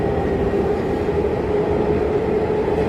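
Steady low rumble of a subway train in motion, heard from inside or on board as a continuous loud drone with a faint tonal whine throughout, no voices.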